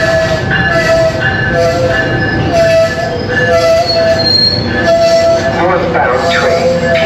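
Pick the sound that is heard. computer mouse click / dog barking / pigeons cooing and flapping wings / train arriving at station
train arriving at station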